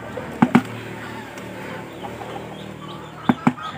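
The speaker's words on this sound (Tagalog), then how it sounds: "Ay sa mga manok pala." Chickens on a farm give a few sharp clucks, two close together at the start and another pair near the end, with quiet in between.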